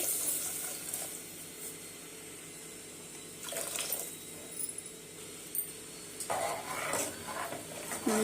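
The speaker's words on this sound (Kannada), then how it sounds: "ಹಿಂಗೆ ನೀರು ಸೇರಿಸ್ಕೊತಾ ಇದ್ದೀನಿ" Water poured into rasam in a pot makes gushing, splashing bursts, one early and a longer one near the end, with quieter simmering in between and no speech.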